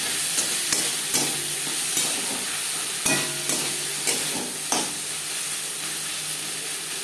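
Ginger and green chili paste frying with onion and tomato in a pan, a continuous bright sizzle broken by regular scraping stirs and small clacks of a spatula, close and steady with no voices.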